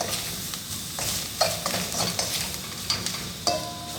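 Whole spices sizzle and fry in a hot pan for a prawn curry, with a steady crackling hiss under repeated scraping and clinking as a utensil keeps them moving.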